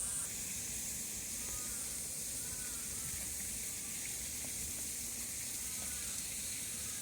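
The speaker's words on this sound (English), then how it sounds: "That's a gorgeous waterfall." Waterfall in Keitakuen Gardens, Osaka, a steady broadband rush of falling water that fills the whole clip without a break, with no talking over it.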